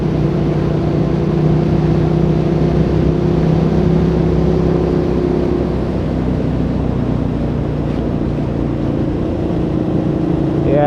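A motorcycle engine drones steadily and loudly at close range as the bike accelerates out of a corner on a winding road of S-turns, its tone rising slightly partway through with wind rush over it.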